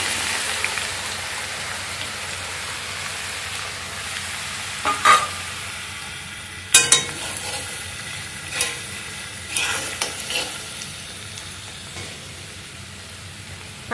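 Crushed garlic frying in oil for an Andhra mango pickle, a steady rain-like sizzle close by with occasional sharp pops and spatters standing out above the continuous hiss; no speech.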